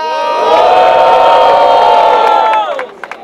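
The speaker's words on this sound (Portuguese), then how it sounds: "Barulho só pra quem achou que foi Davilzinha." A loud crowd at a freestyle rap battle cheers and shouts together in a sustained roar that swells, holds steady, then breaks off into a few scattered yells.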